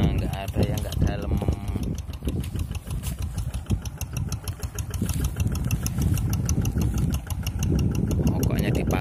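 A Quick G1000 tractor engine chugs steadily while doing deep field tillage, with a continuous rough mechanical rumble throughout.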